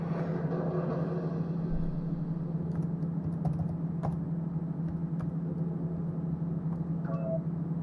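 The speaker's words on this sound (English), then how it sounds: "Just gotta type in my password." Someone types a password on a laptop keyboard, producing a run of close, light key clicks over a constant low electrical hum, with no talking.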